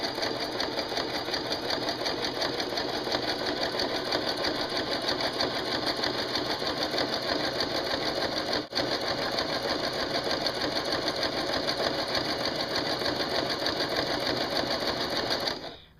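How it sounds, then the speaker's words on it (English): Sewing machine stitching a paper mini-album page, a fast, even mechanical whir and patter running steadily and close for about fifteen seconds before stopping, with no talking. "I'm not going to try to talk over the machine"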